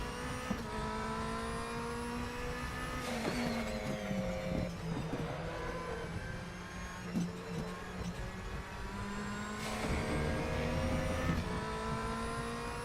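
A DTM race car engine at the Norisring drones loudly with steady tonal whine, shifting pitch as it revs, with a brief mechanical clunk partway through as the DRS flap opens.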